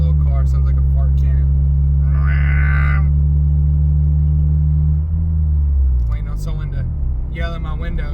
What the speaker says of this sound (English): My little car sounds like a fart cannon.